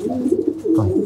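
Pigeons cooing in a loft, a close, steady run of soft low throaty coos lasting about a second, with no talk over them.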